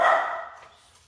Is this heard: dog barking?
yes